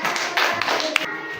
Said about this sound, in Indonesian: silakan beri tepuk tangan untuk kelompok 1